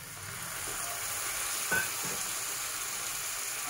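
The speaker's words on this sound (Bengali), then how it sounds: "দেখতে পাচ্ছেন গাইস, পেঁয়াজটা ভালো মতো কষছে" Onion and tomato sauté in a pan for a mustard-style bata fish curry, giving a steady close sizzle with one brief spoon stir scraping through the middle.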